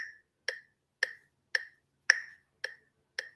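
A metronome click track beats at a steady, even tempo, with about seven sharp, crisp clicks spaced roughly half a second apart. The clicks sound alone and close against silence.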